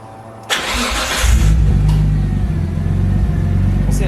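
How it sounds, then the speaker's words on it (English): A car engine cranks and fires at close range, then settles into a loud, rough, steady mid-pitched run with a slight rise in revs; no talking. "Just going to run it for a bit, let it get up to temp, see if it still does it, and see if it revs nicely."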